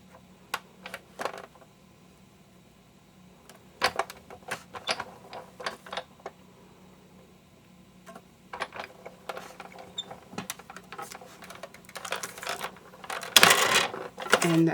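Card plates cranked through a die-cutting machine for a double flip card, giving scattered clicking, ratcheting mechanical taps that grow denser toward the end, finishing in a louder burst of grinding pressure, with no talking.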